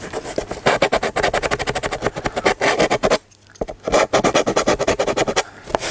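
A wooden servo tray on a model aircraft is trimmed lightly to fit into its fuselage slots. Close, rapid rasping strokes repeat in a steady rhythm, with one brief pause partway through.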